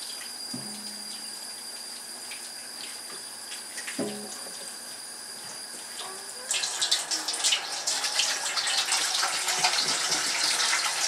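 Tap water runs steadily, then rises to a louder, fuller gush as fruit is washed under it for home canning, with a few dull knocks early on and no talk.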